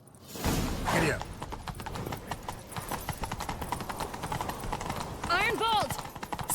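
Galloping horse hooves in the video game The Witcher 3, a fast steady clip-clop running throughout with a brief whinny near the end and game sound around it.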